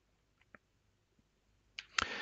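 A quiet computer mouse clicks on a Restart button, a few faint sharp clicks followed by a brief louder burst of noise as the machine begins to reboot.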